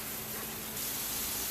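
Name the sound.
spraying off pickling jars with water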